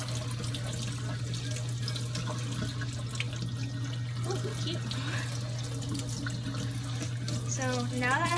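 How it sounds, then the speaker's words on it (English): Warm tap water runs from a faucet in a steady close splashing stream, with a constant hum beneath it and no break across the clip. "I'm just using warm water, tap water."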